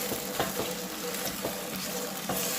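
Arrabbiata sauce with salami sizzles and bubbles in a pan, with a steady frying hiss broken by a few stirring scrapes close by.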